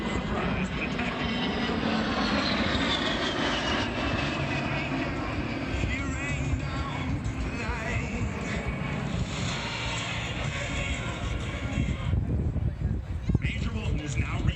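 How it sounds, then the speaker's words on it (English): An A-10 jet with two TF-34 turbofan engines flies at the Cleveland air show, its engines giving a steady, broad roar with a whistling edge throughout, while an announcer talks over it. "The A-10's two TF-34 turbofan engines add more than just power to its performance."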